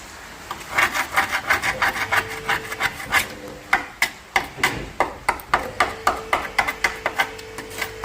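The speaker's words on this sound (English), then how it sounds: "I will jab it with a screwdriver." A screwdriver jabs and scrapes at corroded, rusty car body metal, giving a quick series of close, sharp scraping strikes that settle into a regular, rhythmic pattern.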